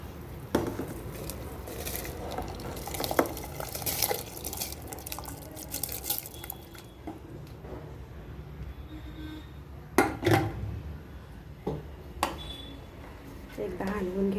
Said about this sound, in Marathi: आता आपण धुतलेले तांदूळ, 2 स्वच्छ केलेले तांदूळ आता त्यामध्ये घालून घ्यायचे आहेत।